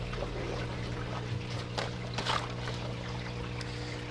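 Water in an aquaponics system flows from a clay bed through floating plant rafts and drains by gravity into a sump tank, giving a steady, even trickling wash with faint splashes throughout.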